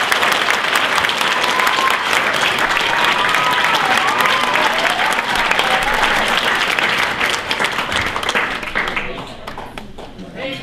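Guests at a wedding reception give a long round of applause after the speeches. The clapping is dense and sustained, with a faint whistle or cheer running through it, then thins and fades out toward the end.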